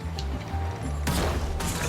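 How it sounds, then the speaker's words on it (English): Skylanders SuperChargers Shark Shooter fires two sharp bursts about half a second apart, each a bright crack with a short rumbling tail over steady game background hum. "I'm going to fire one off right here, and then I'm going to turn immediately and shoot another one."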